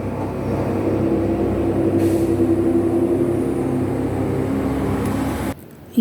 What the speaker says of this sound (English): Please pardon the noise by the roadside.